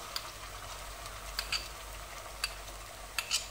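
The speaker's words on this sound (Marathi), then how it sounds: "ह्या स्टेजमध्ये आपण ह्याच्यामध्ये आलं लसूण पेस्ट घालून घ्यायची आहे।" Onion fries with ginger garlic paste for Kolhapuri misal, a low steady sizzle with occasional sharp ticks of a spoon scraping the pan, close and fairly quiet.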